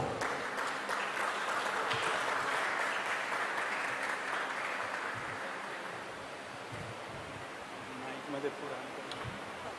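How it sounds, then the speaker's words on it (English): A crowd applauds at a music school's convocation ceremony, a dense wash of clapping that starts strong, then gradually thins and fades. "Let us all applaud."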